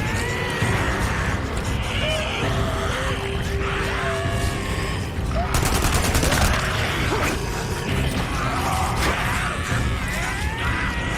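Gunfire in the zombie-survival video game Days Gone, with repeated shots and a rapid burst in the middle set within a dense, busy mix of game noise, creature cries and effects.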